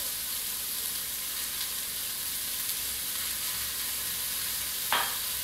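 Opo squash (bottle gourd) with coriander powder frying in a pan gives a steady, even sizzle throughout, with a short clink of a utensil near the end.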